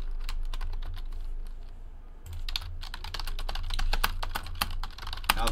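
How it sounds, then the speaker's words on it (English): Rapid typing on a computer keyboard while logging card-break results, a steady close patter of key clicks that pauses briefly and then resumes faster, with no talking. "bear with me here as I type in all of the hits"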